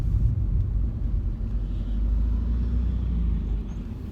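A driving-lesson car's engine idles with a steady, deep, close rumble that carries on evenly before being switched off, with no talking over it.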